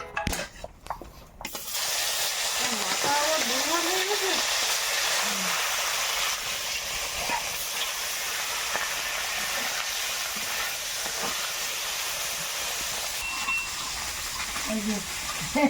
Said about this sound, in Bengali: কড়াই গরম হয়ে গেছে তেল দিয়ে দিলাম এবার